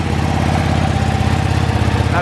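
A 2023 Ducati Panigale V2 Bayliss motorcycle engine runs at a steady idle during its first service, a loud, close, even low rumble with a rhythmic pulse and no clear pauses.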